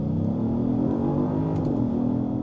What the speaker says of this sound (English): I will put my foot on the ground, foot on the gas, and see what we can get to 60 with.